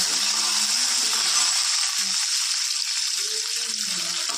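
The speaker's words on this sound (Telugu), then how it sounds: "ఆవాలు, జీలకర్ర వేసి ఫ్రై చేయాలి." Mustard seeds, cumin, dried chillies and curry leaves tempering in hot oil, a dense, steady bright sizzle with fine crackling throughout, close and loud, with faint low voice murmurs underneath.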